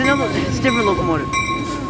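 A locomotive on a Chicago railway rumbles close by under a steady drone, with sliding tonal whines and a high sustained pitch, while voices talk over it.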